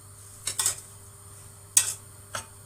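A utensil stirs apples cooking in a pot for an apple roll cake: a few light, bright metallic clinks against the pot, spaced irregularly, over a quiet low hum.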